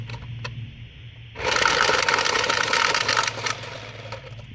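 An automatic card shuffler starts up after a quiet low hum, then whirs with a dense mechanical rattle of cards being fed and kicked out, close and continuous for about three seconds, no voices.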